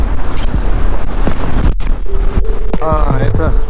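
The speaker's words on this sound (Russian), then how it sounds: "это на кресте цепи ветром болтает." Chains on the cross of a large abandoned church in Volgograd clink and rattle in strong wind, with irregular metallic knocks over heavy gusting wind noise buffeting the microphone.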